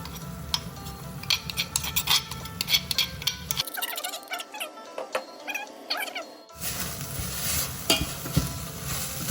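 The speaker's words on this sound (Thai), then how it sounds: "รวนหมูเข้ากับเครื่องแกงก่อนนะคะ" Pork being stir-fried with pounded Thai curry paste in a pan for a gourd curry, with steady scraping and clinking of a utensil against the pan over a sizzle, which drops out briefly midway and then resumes.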